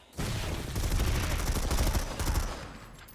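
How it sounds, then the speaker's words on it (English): Rockets and gunfire in Planetside 2 during a competitive match on Briggs Thunderdome: a dense, continuous barrage of shots and blasts, loud and close, with no talking. "Rockets flying left, right, and center"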